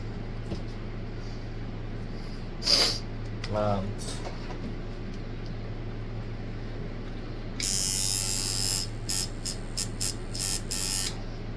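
A cast iron tattoo coil machine buzzes with a steady electric hum throughout, joined by louder bursts of harsh buzzing near the end, with brief speech.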